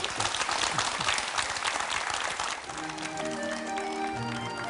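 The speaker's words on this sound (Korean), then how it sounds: "고생하신 사모님 위해서 박수 좀" Audience applause for a hardworking wife at a memorial broadcast, a dense burst of clapping that thins out partway through as faint tonal sounds and murmurs come in underneath.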